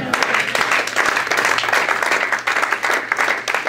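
A church congregation applauds loudly and continuously, dense overlapping claps from many hands filling the room, close and sustained throughout with a few voices mixed in.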